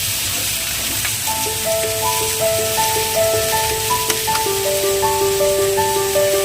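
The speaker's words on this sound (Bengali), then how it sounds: "আলু অ্যাড করে দিল, দিয়ে একটু নাড়িয়ে নিয়ে এর মধ্যে পরিমাণ মতো হলুদ আর লবণ দেবে" Potatoes fry in a pan with a steady, close hiss of sizzling as they are stirred with turmeric and salt, while a gentle instrumental melody plays over the cooking.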